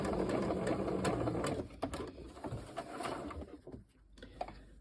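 Sewing machine back stitching fabric while making a gnome, a rapid close mechanical whir of stitching that stops and then gives way to short, quieter bursts and clicks.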